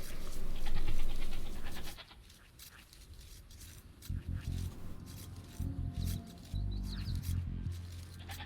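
Sheep bleat in a medieval real-time strategy game match, the short animal calls surfacing over game sounds while a commentator talks throughout.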